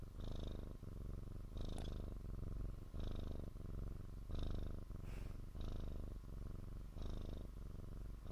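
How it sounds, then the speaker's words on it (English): Close-up cat purring, a continuous low rumble pulsing in regular breath-length cycles of even loudness, with no voices over it. "Oh, you're purring."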